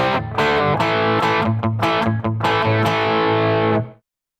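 An electric guitar played through a Waves CLA guitar plugin with the bass boosted heavily gives dense distorted chords, several strummed hits ringing over about four seconds before cutting off abruptly.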